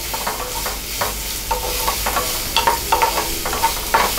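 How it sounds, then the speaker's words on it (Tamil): Green chilies and onions sizzle in hot oil for a prawn pepper masala, with a steady frying hiss broken by irregular stirring scrapes and small pops close by, and nobody talking. "பச்சை மிளகாய், வெங்காயம் இது ரெண்டையுமே ஆட் பண்ணிக்கலாம். இது வந்து நல்லா வதங்கணும்."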